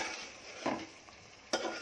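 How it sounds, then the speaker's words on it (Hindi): A spiced masala for Konkani-style bhindi with prawns is fried and stirred in a pan. Two sharp spoon scrapes cut through a low, steady sizzle. "इसको मैंने अच्छे से 4 मिनट भून ली मसाले को"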